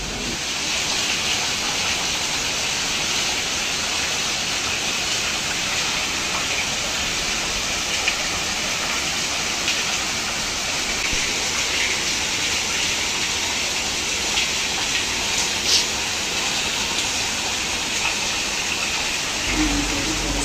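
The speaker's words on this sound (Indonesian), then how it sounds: "Wenten goa tur grembengan utawi skadi air terjun alit pelinggi ring goa ring genah payogan inucap." A small waterfall splashes inside a meditation cave in Bali, a dense, unbroken rushing hiss of falling water that stays loud and even throughout, with no voices.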